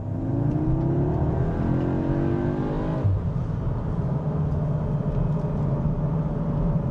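An Audi S3 Black Edition in Dynamic Plus mode accelerates hard, its engine note climbing steadily in pitch, cutting off briefly at a gear shift, then pulling again as a loud continuous drone.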